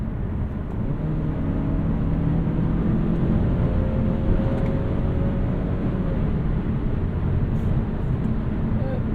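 Steady low engine hum and road rumble from a 2022 Mazda CX-30 2.5 S Premium with the non-turbo 2.5-litre four-cylinder, heard from inside the cabin on a test drive, even and continuous with faint harmonic drones rising slightly.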